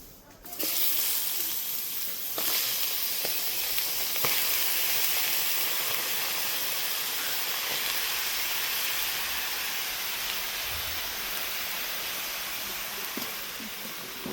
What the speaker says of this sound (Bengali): আমগুলো সেদ্ধ করে নেব।